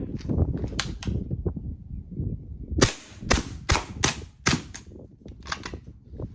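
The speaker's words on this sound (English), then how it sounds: "I'm actually gonna shoot 5 more out of this guy just because I can" Suppressed 9mm gunfire from an AR9 SD or MAC5k, a string of about six sharp, muffled cracks fired at uneven intervals, close and loud over a low background rumble, with no voices.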